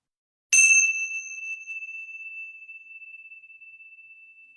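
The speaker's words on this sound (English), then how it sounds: "So I'm going to ring the bell." A single bell is struck once, giving a bright ding that rings on and slowly fades in otherwise quiet surroundings.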